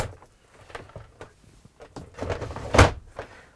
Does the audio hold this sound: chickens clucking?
no